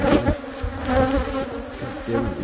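Bees swarming inside an RV, a steady close buzz of many insects rising and falling in loudness with no speech.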